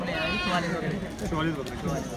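Goats bleat continuously at a livestock market, with wavering cries close by and voices talking over a busy crowd.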